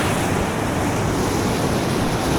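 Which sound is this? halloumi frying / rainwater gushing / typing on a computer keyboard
rainwater gushing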